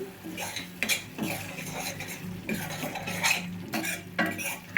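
Utensil scraping and stirring garlic chutney cooking in a pan, with repeated metallic clinks and scrapes in an uneven rhythm, close and moderately loud over a soft background hum.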